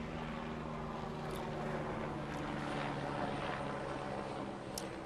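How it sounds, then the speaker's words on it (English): A low-flying aircraft drones overhead at an outdoor street dedication ceremony, a steady loud roar that fills the whole moment with no talk over it. "Did we order that flyby?"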